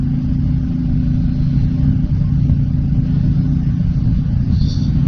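A Royal Enfield motorcycle ridden through town and over a flyover, its engine a steady low rumble droning continuously up close, no talk over it.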